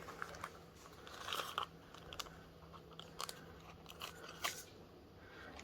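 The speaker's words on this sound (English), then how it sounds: "And then I'm just going to cut it out." Scissors snip out a paper circle in a quiet room, giving several faint, close crunchy cuts in an uneven rhythm, with no talking.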